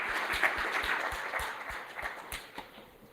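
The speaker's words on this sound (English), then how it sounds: "applause, please" Audience applause after a talk, thinning out into scattered individual claps that are fairly faint and distant, dying away toward the end.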